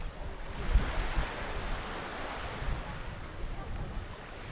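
Surf washing onto a small public town beach beside the old harbor in Mykonos, a steady soft roar of waves with wind noise on the microphone, fairly close and continuous without speech.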